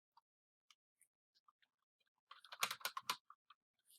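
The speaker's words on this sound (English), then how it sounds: "you start typing in the word terminal" Quiet, sparse keystrokes on a computer keyboard, scattered single clicks that build into a short, denser burst of typing before trailing off, with no talking.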